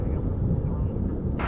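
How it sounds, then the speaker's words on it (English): A small Beechcraft plane at DFW International Airport makes a continuous low rumbling drone, steady and moderately loud, before cutting off abruptly at the end. "Got a little Beechcraft"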